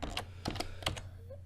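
Computer keyboard keys clack in quick bursts while code is typed, with three clusters of sharp clicks over a low steady hum.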